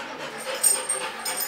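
A dog pants rapidly and gives a few thin, high whimpers, close by and fairly quiet, with no talk.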